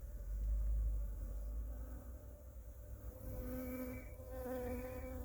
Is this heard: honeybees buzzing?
yes